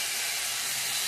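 Ground coriander, cumin and chili powder dropped into a hot pan, raising a loud, steady, close sizzling hiss that fills the moment without any talk.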